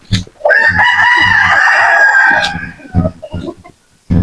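Native chickens at early-morning feeding time, with a rooster crowing one long, loud call close by amid sharp clucks and scattered thumps of activity around the birds.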